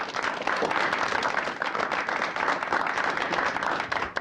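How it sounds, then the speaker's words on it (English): An audience at a panel discussion on a new Black agenda applauds, a continuous wash of many hands clapping at a fairly even, moderate level from start to finish. "give yourself a round of applause"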